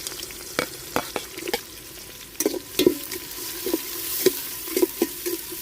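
Onions and green chillies frying in a pan for Andhra village-style gongura country chicken, a soft sizzle under repeated sharp scrapes and taps of a spatula against the pan, close and unaccompanied by voices.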